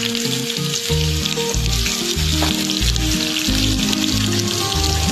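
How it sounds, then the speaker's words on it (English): Chopped onions and kasuri methi frying in oil on a tawa, a loud steady sizzle running throughout with a rhythmic low tone pattern layered underneath. "put some oil on it, add the kasuri methi and fry it well. Fry it well, add chopped onions"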